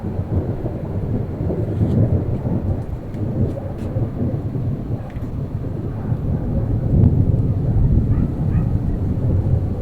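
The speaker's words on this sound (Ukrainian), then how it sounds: "Ви чуєте, як довго розкоти грому розійшлися" Low, rumbling thunder from a storm over Kharkiv rolls on continuously, swelling louder toward the end, with rain pattering in the background.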